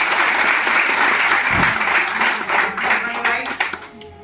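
An indoor audience bursts into loud, dense applause that carries on steadily for several seconds, with a voice speaking over it.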